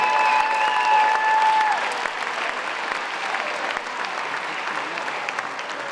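An audience at a college athletic Hall of Fame induction ceremony gives a steady round of applause, many hands clapping together at a fairly even level, slightly fuller at the start before settling.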